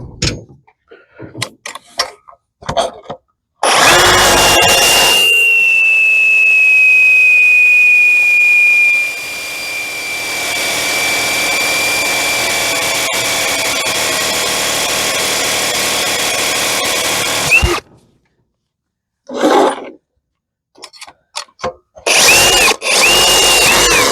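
A Sawzall reciprocating saw cuts metal while a 1976 Vermeer LS200 log splitter is restored, running loud and steady for about fourteen seconds with a high whine, then stopping, followed by short bursts of cutting.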